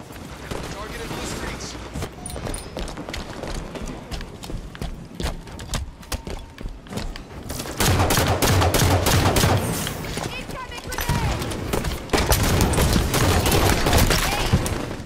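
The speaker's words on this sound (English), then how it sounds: "didn't get enough shots on with that plasma rifle" Plasma rifle fire in a Halo 5: Guardians match comes as rapid repeated bursts of shots, denser and louder in the second half, with a player talking over the game sounds.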